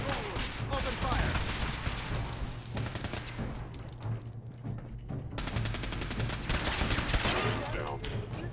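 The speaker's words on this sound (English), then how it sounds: "Open fire!" Fallout 4 gunfight erupts in loud, rapid machine-gun bursts and scattered shots, dense and continuous with brief lulls, voices shouting faintly beneath the fire.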